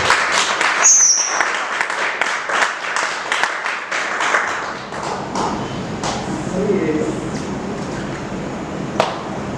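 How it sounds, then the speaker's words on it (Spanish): A church congregation applauding Christ, a burst of clapping mixed with voices and cheers that fades over several seconds, with someone speaking over it. "Denle un aplauso a Cristo."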